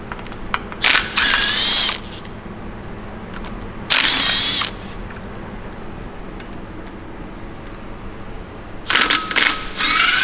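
A power tool whirs in three short bursts while bolts are removed from the engine case of a failed BMW S1000RR superbike engine, with quieter workshop clatter in between.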